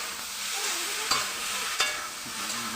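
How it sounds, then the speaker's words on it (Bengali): A curry of potato and eggplant being stir-fried in a pan, a steady close sizzle broken by two sharp clacks of the spoon against the pan. "বাবা তরকারি কষানো হচ্ছে, এই যে আলু দিয়ে বেগুন দিয়ে।"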